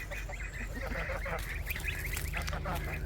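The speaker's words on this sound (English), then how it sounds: "And there's the geese." Geese on a small farm in spring honk repeatedly in a mixed flock alongside ducks and chickens, the calls overlapping at moderate distance over a steady low rumble, with no talking.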